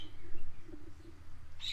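A bird in the video game Star Stable calls with soft, low cooing notes, steady and faint, ending in a brief higher chirp, alone without talk.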